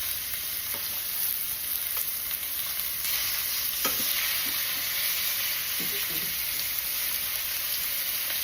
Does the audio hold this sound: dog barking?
no